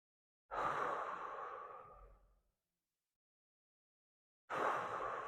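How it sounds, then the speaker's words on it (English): Two deep, slow breaths during a stretch class, each a long, close airy exhale that fades out, separated by a couple of seconds of silence, with no talk. "Give me 3 more big breaths."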